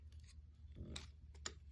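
Scissors cutting around a vellum collage piece, several quiet crisp snips in an uneven rhythm, close and faint with no talking.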